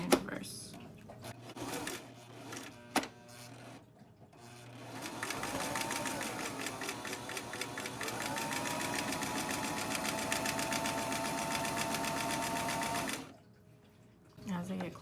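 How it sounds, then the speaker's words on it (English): A sewing machine stitches in reverse over elastic on a face mask, starting with a few short bursts and clicks, then running in a steady whir for several seconds before stopping. "Drop the foot just behind the elastic and put the machine in reverse."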